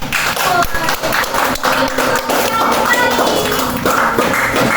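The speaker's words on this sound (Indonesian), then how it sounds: "berikan tepuk tangan untuk kelompok 4 dan Joel" Students in a classroom clapping for group 4 and a classmate, uneven close-up hand claps and taps with murmured voices underneath.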